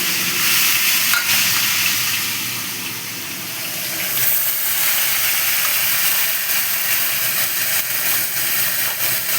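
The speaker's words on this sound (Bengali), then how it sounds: "এবারে বাটা মাছগুলো আমি এক করে ভেজে নেব" Bata fish sizzle steadily in hot oil, a loud, dense, continuous crackle that swells and eases slightly without any talking.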